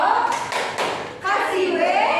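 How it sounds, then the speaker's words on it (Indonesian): Classroom of students beating out the 'tepuk wow' clap routine, three sharp group claps or thumps in a row followed by voices chanting along, close and fairly loud. "kita kasih tepuk wow buat Mbak Vivi karena udah berani maju"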